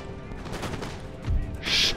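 Musket volley fired in the strategy game Empire: Total War, a short crackling burst of massed shots near the end after a low battlefield murmur, with faint talk underneath.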